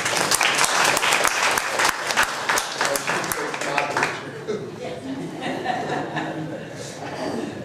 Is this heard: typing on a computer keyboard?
no